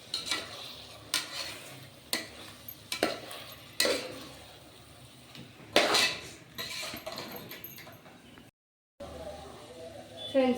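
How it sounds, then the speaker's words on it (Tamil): A spoon scrapes and clinks against a pan in short repeated strokes, stirring Aachi chili powder into a masala, while a voice talks over the cooking. "இது எல்லாத்தையும் நல்லா கிண்டி விட்டுக்கலாம்"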